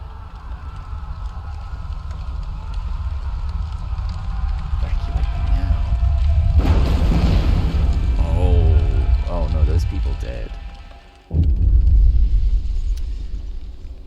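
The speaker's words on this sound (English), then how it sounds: "Sounds of explosion come from the generator and the din of terrified voices." Deep explosion rumble from the generator in the video game Frostpunk, a loud continuous low roar with a surge in the middle, a brief dip, then the rumble returns strongly.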